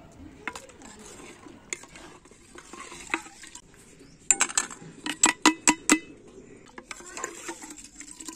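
Scraping, clinking stirs of a spoon against a bowl of raita as salt and chili are mixed in, a quick run of sharp taps in the middle, with faint background noise throughout.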